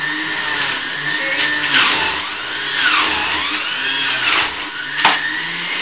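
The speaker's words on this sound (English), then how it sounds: "Let's put the juicer on. So this is going to get a little bit noisy" A home electric juicer grinds pineapple and other fruit with a loud, steady whir, its motor pitch sagging and recovering as pieces are pushed through, with a sharp knock near the end and no voices.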